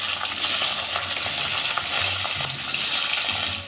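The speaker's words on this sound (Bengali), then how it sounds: "আমি এই মাছগুলো ভেজে নেব।" Rohu fish pieces frying in hot mustard oil in a pan, a continuous loud crackling sizzle with small pops that stays steady and close with no voices.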